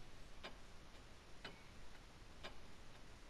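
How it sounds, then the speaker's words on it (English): A clock ticks in World of Final Fantasy, three evenly spaced sharp ticks about a second apart, faint over a soft hissing ambience with no talking. "Do you like the sound of the ticking clock?"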